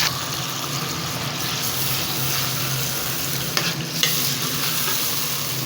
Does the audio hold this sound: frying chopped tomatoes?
yes